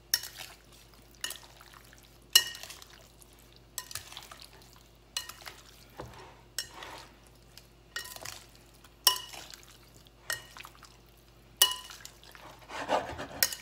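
Seasoning mixture for arroz con pollo being stirred in a bowl, with repeated scraping, clinking strokes at an irregular rhythm, close and fairly quiet, no voices.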